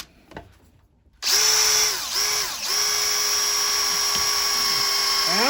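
An electric drill starts with a click, then whines loudly and steadily at close range, dipping briefly in pitch twice under load before holding its high, even buzz.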